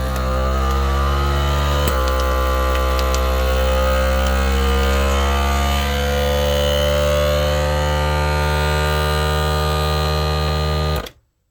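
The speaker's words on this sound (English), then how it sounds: "Now it's sealing it because it took all the air out of here." A vacuum sealer pulls the air from a bag holding a steak and seals it, giving a loud, steady motor hum close up that shifts slightly midway and then cuts off abruptly at the end, with no talking.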